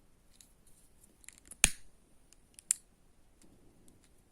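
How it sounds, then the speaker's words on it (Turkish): Scissors snip through crochet yarn after finishing a motif, one sharp close cut followed by a second smaller snip, with faint handling clicks around them in an otherwise quiet room. "İpimi kesiyorum arkadaşlar."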